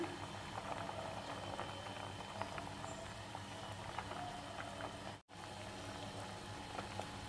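A pot of drumstick leaf soup bubbles at a steady boil, with continuous soft popping and gurgling and a brief dropout partway through.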